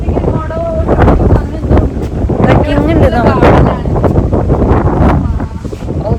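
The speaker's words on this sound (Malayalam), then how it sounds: "ഭയങ്കര കാറ്റും തണുപ്പും" Strong wind buffets the microphone in loud gusty rumbles while people talk over it.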